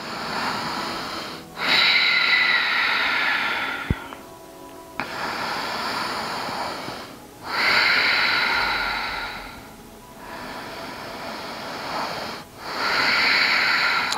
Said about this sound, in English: And just taking three deep breaths here.